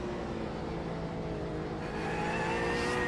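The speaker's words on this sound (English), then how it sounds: "Still a lot of cars out there on track." GT3 race cars on the Nurburgring circuit in a sim racing game, a steady engine whir and rising rev from cars lapping the track, continuous and moderately close with no talk.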